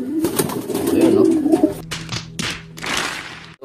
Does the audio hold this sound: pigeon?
yes